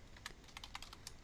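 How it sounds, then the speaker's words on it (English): Quick typing on a computer keyboard as a numeric value is entered in design software, a short run of soft, close key taps over a steady background hiss. "I'm just going to try typing"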